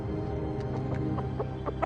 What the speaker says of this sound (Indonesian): Apa kamu sanggup melawan ayam itu, Japra?